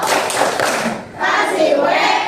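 Children in a primary school classroom clapping a rhythmic 'tepuk wow' clap chant, a burst of loud clapping and voices, a brief lull, then another round of clapping and chanting close by.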